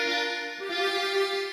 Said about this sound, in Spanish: vamos a cargar un acordeón